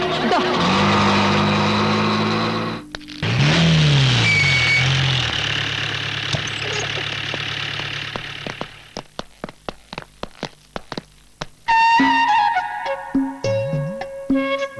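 A vehicle engine rumbles and pulls away in a dramatic film scene, mixed with music, raised voices and sharp knocks, the engine sound steady then breaking into irregular bursts.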